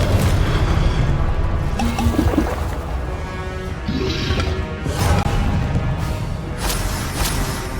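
Blasting-spell explosions from a fantasy wizard video game rumble through dense, continuous game noise, with heavy low booms and crashing bursts layered close and loud for the whole stretch.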